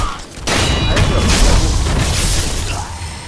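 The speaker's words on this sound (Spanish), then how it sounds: "Petardos valen." Firecrackers go off in the video game Sekiro: Shadows Die Twice, a loud boom followed by a dense burst of crackling pops and rumbling over a few seconds.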